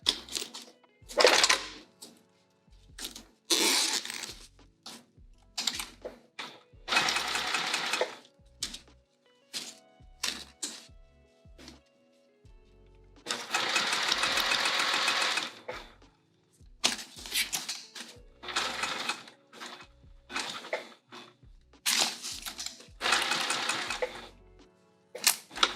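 A sewing machine top-stitching a vinyl bag, running in short and longer bursts of rapid mechanical stitching separated by silent pauses, close and fairly loud.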